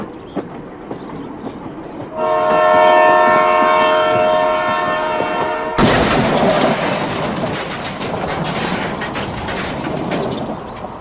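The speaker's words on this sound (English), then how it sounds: "Now I will wait for the train to come." A passenger train approaching on a railroad, with a long steady horn blast over rumbling wheels followed by loud rolling clatter as it passes close by.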